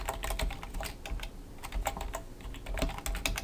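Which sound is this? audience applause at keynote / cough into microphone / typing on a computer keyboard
typing on a computer keyboard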